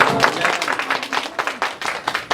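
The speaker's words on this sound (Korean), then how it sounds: "동의하시면 박수 치도 됩니다." Scattered audience applause at a talk, a few hands clapping in uneven bursts that thin out into separate claps.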